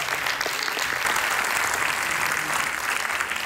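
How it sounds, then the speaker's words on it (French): An audience at a business innovation pitch event applauds steadily and close, a dense continuous clapping with no voices over it. "on peut les applaudir"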